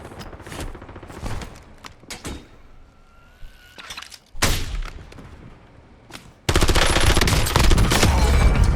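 Gunfire in a shooter video game, with sharp single shots and short bursts spaced across the stretch, some loud and close, ending in a sustained dense roar of rapid fire and noise.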